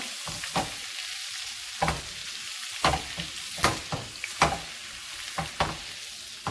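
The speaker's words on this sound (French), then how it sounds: "Et on met à peu près 30 grammes de beurre. Voilà, on attend que le beurre fonde bien." About 30 grams of butter melts over high heat in a pan with a brisk, constant sizzle broken by repeated scraping strokes of stirring, close and clear.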